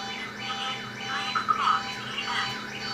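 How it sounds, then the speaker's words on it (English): A car alarm sounds outside, its electronic tone sweeping up and down in a repeating wavering pattern, moderately faint at a distance over a steady background hum, with no talk. "That's a car alarm."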